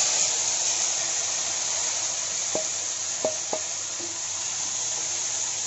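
Pineapple pieces fry in hot oil with mustard seeds, curry leaves and red chilies for a pineapple pickle, giving a steady, loud sizzle with a few faint clicks of stirring.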